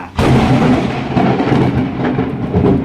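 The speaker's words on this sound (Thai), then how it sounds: "โอ้ฟ้าร้องนะครับ" Loud thunder rumbles through a storm, a sharp crack breaking into a long rolling roar that swells again near the end, with no talking over it.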